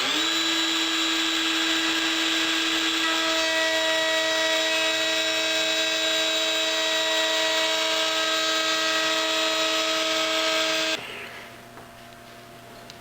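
Router cutting a dado in a wooden picture frame, a loud steady high-pitched whine with a ringing tonal note that holds for about eleven seconds, then spins down abruptly to a faint hum.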